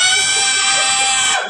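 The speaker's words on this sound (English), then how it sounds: "Smoke alarm." A smoke alarm sounds a single shrill, piercing electronic tone that holds steadily for over a second before cutting off.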